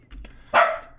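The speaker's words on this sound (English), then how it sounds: "I apologize about the dogs in the background." Barking dogs sound off at a distance, a few muffled yips early on followed by one louder, fuller bark that fades out over about a second.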